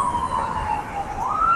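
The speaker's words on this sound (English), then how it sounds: "this ambulance jumps into my stream and is going to make a lot of noise" An ambulance siren wails steadily at moderate loudness, its tone sweeping up and down over a constant road rumble, with no talk over it.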